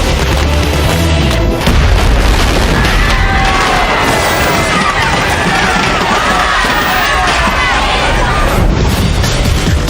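A burning festival statue explodes into a fireball after firecrackers ignite it: a loud, sustained roaring blast of fire with booming rumble, a crowd shouting and screaming underneath throughout.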